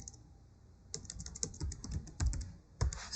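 Fingers tap on a computer keyboard to enter login details, quiet clusters of quick keystrokes with brief gaps and no speech.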